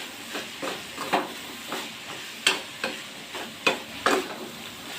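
North Karnataka style vegetable palya is stirred and fried in a pan, with a soft sizzle broken by a series of sharp spatula scrapes and clanks at an uneven rhythm.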